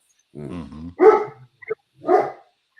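A dog barks three times in short, separate yelps, close and fairly loud against an otherwise quiet background.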